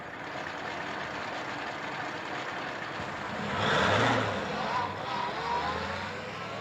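An old car rolls down an alley in a 1940s Batman serial, its engine a low, steady rumble with road noise that swells louder for a moment around the middle before settling back.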